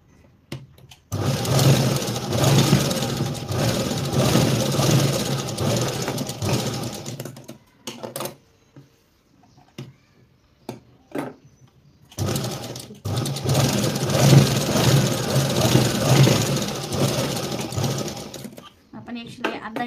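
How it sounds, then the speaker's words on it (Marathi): A sewing machine runs a straight seam on blouse fabric in two long, steady bursts of whirring stitching, separated by a quiet pause with small clicks and handling noises. "सरळ शिलाई मारून घ्यायची आहे"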